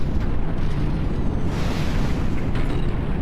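Marksman rifle fire striking a building in the mech strategy game Phantom Brigade, a dense, continuous roar of impacts and rumbling explosions, loud and steady with brighter bursts partway through.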